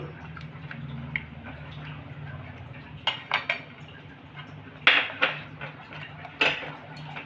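A spoon stirs milk and mango pulp in a pan over a low gas flame, giving scattered metallic scrapes and clinks against the pan rim over a low steady hum, with a few sharper knocks toward the end.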